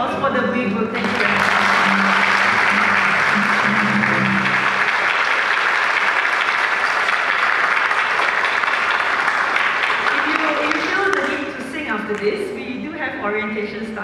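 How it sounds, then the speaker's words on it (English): A full audience gives a long, steady round of applause for a performing group at a choral rehearsal event, loud and dense for about ten seconds before it thins out as a voice begins speaking near the end. "So another round of applause for the We Group"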